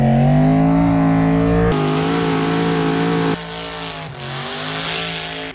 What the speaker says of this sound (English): today we're going to go over the burnout from Cleetus and Cars